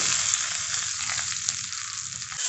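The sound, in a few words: oil and mustard seed tempering sizzling on coconut chutney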